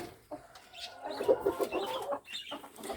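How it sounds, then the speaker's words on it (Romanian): Broody hens cluck close by in a farmyard, a run of soft guttural clucks and murmurs that swell and fade over a few seconds. "să vă arăt și alte cloșcuțe"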